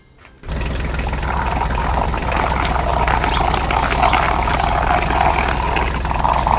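A small cartoon mini tractor engine drones steadily and loudly after a brief quiet start, a continuous buzzing mechanical hum with no talking.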